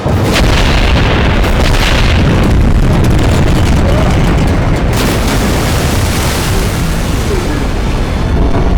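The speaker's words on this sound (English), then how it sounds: "Execute early detonation!" A huge explosion from an early missile detonation in a monster action movie, a loud, dense, continuous rumbling roar filling the whole clip without letting up.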